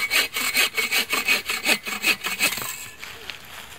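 Folding saw cutting into a branch, rapid rhythmic back-and-forth rasping strokes, about a dozen close up, fading to a few lighter scrapes at the end.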